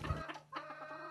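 Backyard city chickens kept as companion animals give a few soft, close clucks in short bursts, quiet and alone with no talking.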